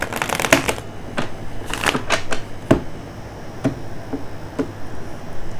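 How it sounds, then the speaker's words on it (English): Oracle cards being shuffled by hand in a quiet room, with a string of soft riffling flutters and taps, close and fairly faint, with no talk. "One more shuffle."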